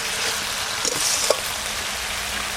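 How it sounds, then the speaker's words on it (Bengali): Spice paste frying with browned onions in a pan for a village-style stingray fish curry, a steady close hiss of sizzling oil throughout with a couple of brief stirring scrapes. "পেঁয়াজটা ভাজা ভাজা হয়ে গেছে, এবার আমি এই মশলাটা ঢেলে দেবো। মশলাটা ভালো করে কষাই নেব"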